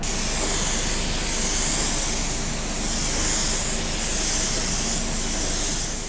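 Sealer sprays onto a car bumper in a continuous, loud, close hiss that swells slightly in waves and never pauses, with no voices.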